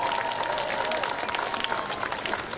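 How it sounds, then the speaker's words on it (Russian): Dense, sustained applause from a large crowd, steady clapping filling the whole moment without letup. "Аплодисменты компании «Сибур»."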